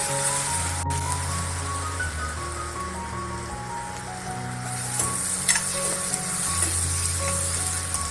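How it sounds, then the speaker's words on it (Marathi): Tomatoes sauté in hot oil seasoned with asafoetida for a ridge gourd curry, a continuous close sizzle with faint spatter and a few light utensil scrapes, no speech. "आता त्याच्यात टामॅटो घालते एक मिनिट परतायचं आहे"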